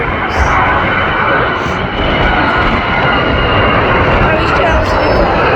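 An Airbus A320 takes off at Manchester Airport on a very windy day, with a loud, steady, broadband engine roar that stays close and continuous throughout.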